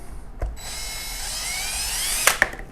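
A power drill with a hex bit whines up in pitch while backing out the pad screws of a Ridgid orbital sander, with a couple of sharp clicks near the end.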